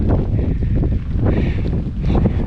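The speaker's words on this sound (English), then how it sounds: "The wind." Strong wind buffets the microphone outdoors in a loud, continuous low rumble that swells and eases in gusts, with no other clear sounds.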